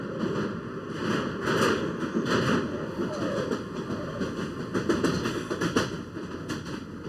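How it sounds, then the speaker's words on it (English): A London Underground train rumbles and rattles steadily close by, with rhythmic clacking of wheels on the track throughout. "This train terminates at Highbarnet."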